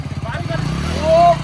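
A homemade Indian motorcycle fitted with an engine like a Delta's runs with a low, quiet, rhythmic putter that swells briefly toward the end, close by and mostly under people talking.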